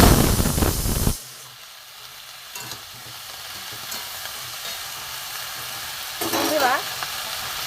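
Bottle gourd stems frying with salt in a pan, giving a continuous hissing sizzle with brief louder bursts of stirring. A voice is heard over it at the start and again near the end.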